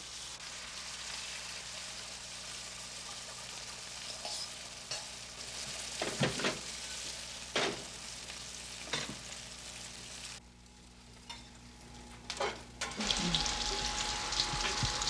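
Morel mushrooms scrambled with eggs frying in a pan: continuous sizzling with repeated utensil clinks and scrapes, quieter for a stretch near the end before the sizzle swells again.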